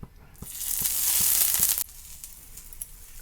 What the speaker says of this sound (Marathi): तर आपण आता ह्याला भाजून घेऊया.